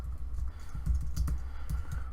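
Computer keyboard keys tapped in an uneven run of soft clicks at a desk, close and moderately loud, with no talking.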